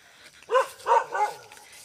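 Two dogs barking near a house, three sharp barks in quick succession, fairly close and clear over a quiet background.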